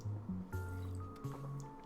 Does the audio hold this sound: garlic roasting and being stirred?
no